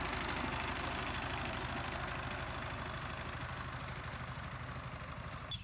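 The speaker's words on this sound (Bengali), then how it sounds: "আমাদের ক্ষেতে পাওয়ার টিলার দিয়ে চাষ করা হচ্ছে।" A power tiller ploughing a field for onion planting chugs steadily in the distance, a faint, continuous knocking engine drone with no voices.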